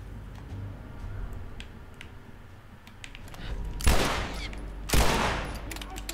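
Two sharp, loud gunshots ring out in The Last of Us, about a second apart near the end, each a broadband crack over a low, steady game ambience.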